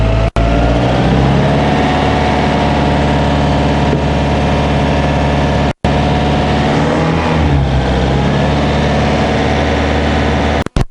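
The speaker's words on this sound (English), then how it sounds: "I'm gonna bring up the RPM in here a little" A Toyota RAV4 engine with an overheating problem runs steadily and loud up close, its pitch shifting slightly around the middle as the revs are raised a little, with brief dropouts near the start and end.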